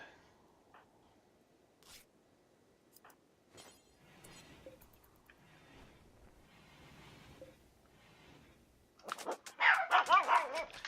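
A dog being looked after barks in a loud, rapid burst near the end, after a long stretch of quiet room noise and soft movement.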